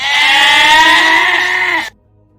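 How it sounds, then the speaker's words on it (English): A goat gives one loud, close bleat, a long wavering nasal cry lasting nearly two seconds before cutting off abruptly to near silence. "There's lots of goats."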